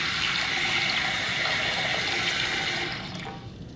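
Loud rushing water flows steadily from an agricultural water pump outlet, then tapers off near the end as the flow weakens.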